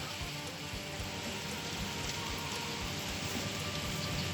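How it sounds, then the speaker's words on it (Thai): Steady, dense hiss of rain falling, continuous and even throughout, with faint low thumps underneath. "ตอนนี้ได้ยินเสียงฝนแล้วนะครับ เสียงฝนมาแล้วครับ"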